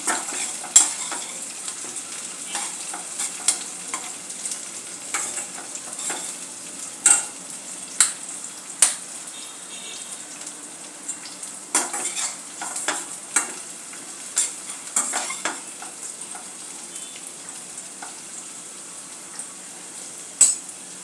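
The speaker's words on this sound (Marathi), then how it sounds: "अशा प्रकारे आपला कांदा गुलाबी होत आहे आता यामध्ये आपण कढीपत्त्याची पानं घालून घेऊया" Onion fries with curry leaves in a pan, a steady soft sizzle running throughout while a utensil stirs and clinks against the pan in scattered close taps.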